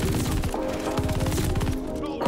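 An MG42 machine gun in the shooter game Call of Duty Vanguard, firing in several loud, very rapid bursts of tightly packed shots close up, with brief pauses between bursts.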